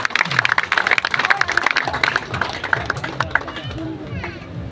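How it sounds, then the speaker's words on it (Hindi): Crowd applause at an outdoor village political rally, steady clapping that rises and falls over a few seconds, mixed with crowd noise and a voice talking over it. "भाई तालियां जोरदार बजाएं"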